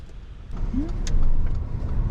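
A learner driver's car creeps forward out of a car park, a steady low engine rumble that swells slightly as it moves off, with no talking.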